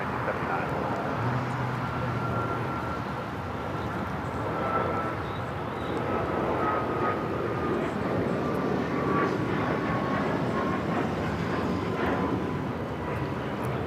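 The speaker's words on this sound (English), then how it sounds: "This is United Airlines 502 taking off to Phoenix on the MAX 9." A United Airlines Boeing 737 MAX 9 roars steadily down the runway on takeoff at LAX, its loud jet engine noise sustained and broad throughout, with faint background traffic.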